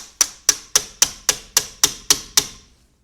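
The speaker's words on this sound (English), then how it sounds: "Tap that socket in." Nine quick, sharp metallic taps in an even rhythm as a socket is hammered into place on a BMW E30 that sat for four years, close and clear, each strike ringing briefly.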